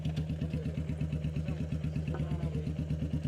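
Motorbike engine idling steadily nearby on a sealed-off village road, a low even throbbing chug with rhythmic clatter that holds without change throughout, no speech.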